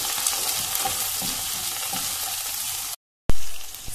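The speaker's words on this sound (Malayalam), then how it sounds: "സവാള നന്നായിട്ട് മുരിഞ്ഞു കഴിഞ്ഞു." Finely chopped onion and curry leaves fry in a pan with a dense, bright sizzle that cuts out briefly near the end, then returns.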